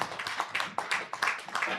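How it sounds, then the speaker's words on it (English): Audience applause for workshop facilitators at a university copyright and authorship workshop, a short burst of scattered hand claps from a room of participants, moderately close and steady throughout. "Can you clap for the facilitators?"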